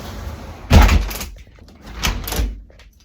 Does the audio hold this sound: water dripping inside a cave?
no